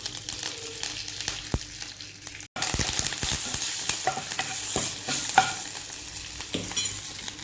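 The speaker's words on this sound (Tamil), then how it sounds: "கடுகு பொரியட்டும்" Mustard seeds, lentils and curry leaves sizzling in hot oil for an onion chutney, a busy crackling fry with sharp pops and spoon clinks, a brief dropout partway, no voices.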